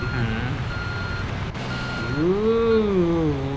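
Reversing beeps from a grader in the construction game Construction Simulator 2, a steady repeating electronic tone over a droning engine whose pitch rises and sweeps as the machine moves.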